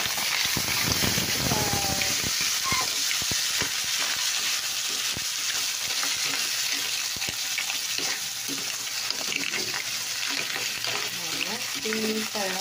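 Mussels (tahong) frying and being stirred in a salted pan, a steady dense sizzle with scraping stir noises throughout, loud and close.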